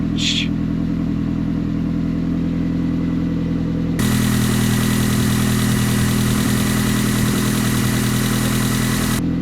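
A Mini car engine cranks and catches, then settles into a steady, loud idle with a rough, droning rumble that continues evenly to the end.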